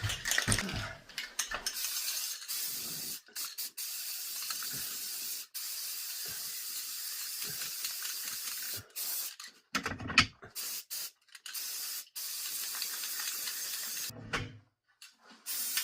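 An aerosol can sprays in long, close hissing bursts with brief pauses between them, used while refinishing a wood stove or barbecue; no one speaks.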